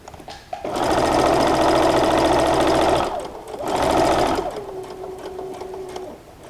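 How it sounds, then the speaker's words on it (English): A sewing machine stitches fabric for a homemade perpetual calendar, loud and close, in two sustained runs of rapid rhythmic clatter split by a short pause, then a faint whir as the motor slows and stops. "So we'll just stitch these around"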